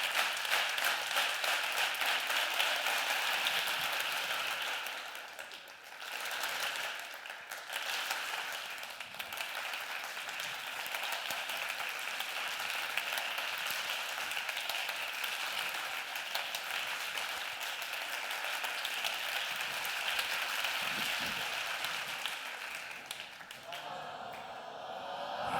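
Sustained audience applause at the ENAP 2016 conference session, a steady wash of clapping heard from a distance, with a brief dip partway and faint voices mixed in near the end.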